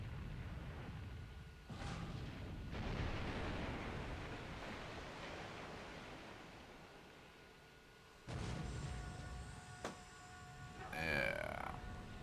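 Heavy 8-inch naval gunfire in a WWII Pacific naval video game rumbles as a broad low boom through much of the clip, with a second loud burst near the end followed by a high whistling sweep.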